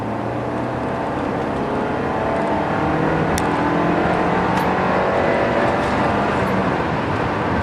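A 2011 Volkswagen Tiguan 2.0T SUV engine drones loudly and steadily with road and wind rush, its pitch slowly climbing as it accelerates onto a highway.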